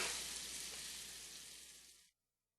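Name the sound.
fish searing sizzling in pan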